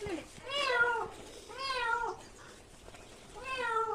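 A cat being rescued from water with a bucket, meowing three times in long drawn-out wails, close and clear, with pauses between calls.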